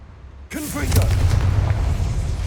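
Confringo fire-blast spell exploding in Hogwarts Legacy: a sudden booming blast after a short quiet lead-in, followed by a sustained rumbling roar. A voice is heard over it.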